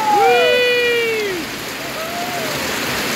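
Rain falls on a street as a steady, dense hiss, loud and close, with voices calling out over it.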